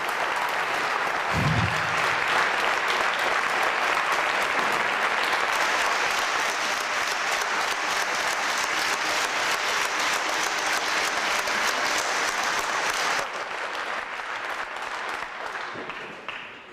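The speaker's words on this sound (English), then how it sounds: "Y'all clap too." A lecture audience at a creation versus evolution debate applauds in a dense, sustained burst of clapping that runs steadily, then thins and fades out at the end.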